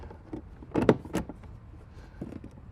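A few quick plastic clacks and a short rattling collapse of a Thetford SmartTote 2LX portable waste tank, moderately loud, then quiet with faint handling noise.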